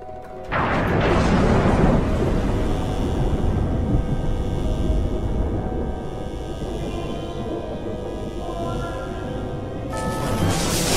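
A thunderstorm sound effect on the Twilight Zone Tower of Terror ride, a loud rumbling crash of thunder that rolls on and slowly fades, with no talking.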